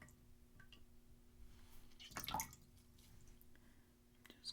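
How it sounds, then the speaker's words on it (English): A washcloth is dipped into water and wrung out in a quiet bathroom, with a short burst of dripping, squishing liquid in the middle, close and soft against a low steady hum. "to dip my washcloth in the water and then squeeze some out"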